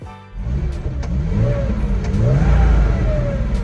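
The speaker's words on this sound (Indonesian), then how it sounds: "raungan serak-serak basah dari mesin boxernya Porsche" A Porsche sports car boxer engine revs up with a rising, throaty roar, climbing in pitch and holding loud and close for several seconds.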